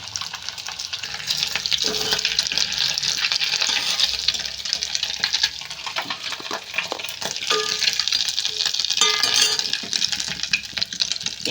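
Eggs fry in oil in a pan with a constant crackling sizzle and bubbling hiss, heard close, with occasional clinks and scraping throughout.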